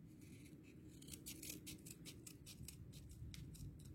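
Scissors snip through paper for a craft bell in a quick run of close, crisp cuts, following a few quieter snips at the start.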